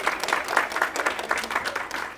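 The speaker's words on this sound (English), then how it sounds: "Give her a round of applause, please" A round of applause from a convention audience for a guest voice actor, steady clapping held at moderate distance throughout.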